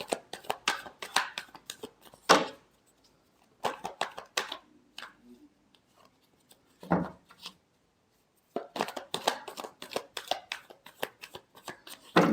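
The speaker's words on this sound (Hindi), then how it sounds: "last shuffle" Tarot cards are shuffled by hand in quick bursts of crisp riffling and slapping, with pauses between them and a last flurry at the end.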